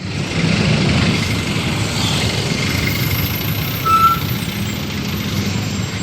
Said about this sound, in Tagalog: Problema itong traffic na ito.